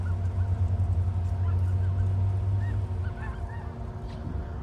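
Faint, distant honking calls from a flock of geese overhead, scattered and irregular, over a low steady hum.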